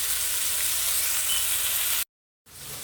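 A burger patty sizzles steadily as it cooks, a close, dense hiss that holds evenly for about two seconds, then cuts to silence briefly before the frying resumes.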